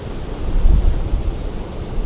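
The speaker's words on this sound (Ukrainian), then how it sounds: "Блін, вітер такий" Strong wind gusting across a lake shore during pike fishing, a steady low roar of buffeting air on the microphone that swells and eases, with no voices.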